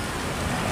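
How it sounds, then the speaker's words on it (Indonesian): Light drizzle falling outdoors, a soft, even patter and hiss filling the short moment with no speech. "Sudah gerimis"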